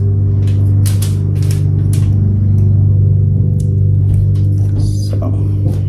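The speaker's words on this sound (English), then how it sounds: "That noise y'all hear, that's the lawnmower" A steady, loud engine drone from a lawnmower cutting grass outside nearby, continuous throughout, with scattered clicks and knocks on top.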